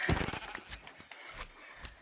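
Sheep bleating in the video game Minecraft, a couple of short nasal bleats close up, the first loudest, followed by quieter game sounds.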